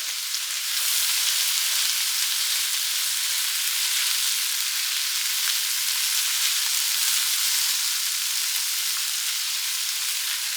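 Garlic fries in a pan while being mixed, a dense, bright, continuous sizzle that holds steady and loud from start to finish, with no talking over it.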